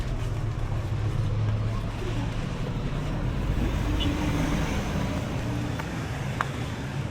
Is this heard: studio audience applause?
no